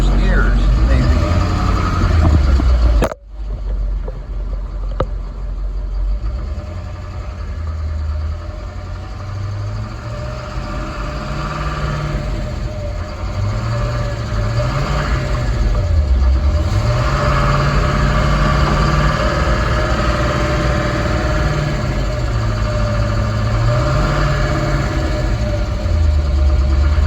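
A 1971 Chevrolet C10 pickup fitted with a Duramax engine and a six-speed transmission, its engine running steadily up close with a low drone that rises and falls as it moves through the gears.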